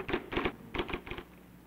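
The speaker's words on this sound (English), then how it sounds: "Here's a better way to put words on paper. A remarkable electric typewriter," Typing on an IBM Selectric electric typewriter from the 1960s: several short bursts of clustered key strikes with brief pauses between them, moderately quiet and alone with no talk.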